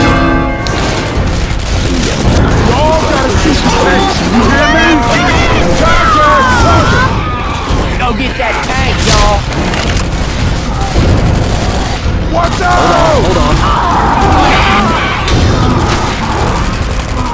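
Rapid gunfire and heavy grenade launcher blasts in the survival game DUST, loud dense volleys with booming explosions filling the whole stretch, with shouting voices mixed in.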